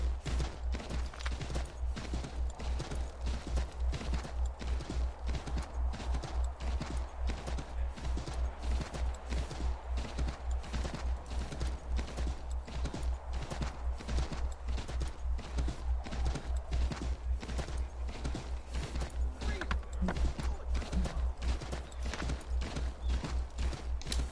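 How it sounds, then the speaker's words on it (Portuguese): A horse gallops in Assassin's Creed III Remastered, its hooves drumming in a fast, even clip-clop rhythm that runs nonstop for over twenty seconds at a moderate, close level. "Cara, essa estamina desse cavalo chega a ser ridícula."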